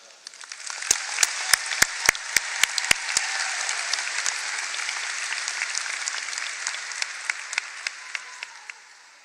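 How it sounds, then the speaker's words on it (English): A large graduation crowd at a high school commencement ceremony applauds the class of 2025 in loud, sustained clapping, with a few sharp single claps standing out near the start and the ovation fading toward the end. "Please, if you could give another round of applause to your class of 2025"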